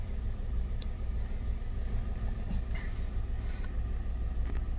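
Daihatsu Sigra engine held at high revs, around 3000 to 5000 RPM, before a gear change: a steady, loud low drone of engine and road noise inside the car, with no talking.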